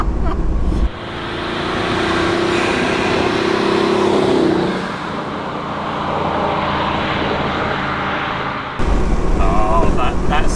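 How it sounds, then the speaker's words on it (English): A 400hp twin-turbo V8 Morris Minor roars loudly nearby as the turbos spool up with a rising whine, and the engine note shifts through several seconds before a blow-off valve releases and the revs drop and build again. "That kind of spool up with a blow-off valve."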